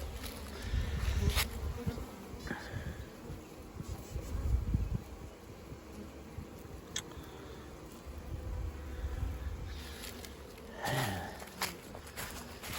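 Honey bees fly at a hive entrance in early spring while foragers carry in pollen, a close continuous buzzing with individual bees droning past the microphone and a few faint bumps and rustles.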